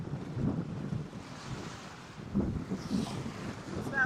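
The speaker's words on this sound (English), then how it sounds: "So pretty wild, clearly steady, sustained 20 knots of wind." Strong, steady wind of about 20 knots over a boat at anchor off Mexico: a continuous low buffeting rumble and gusty wind roar on the microphone, with the wash of water around the hull beneath it.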